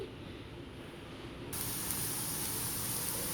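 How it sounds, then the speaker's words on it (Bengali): A steady hiss of onions frying in hot oil, jumping louder partway through and then holding an even, close sizzle. "পেঁয়াজটা একটু ভাজা ভাজা করব"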